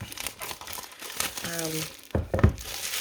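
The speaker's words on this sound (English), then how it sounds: "I'm going to pull the plastic off it" Plastic wrap crinkles and tears as it is pulled off a card deck, with a short crackly rip, mixed with brief vocal sounds nearby.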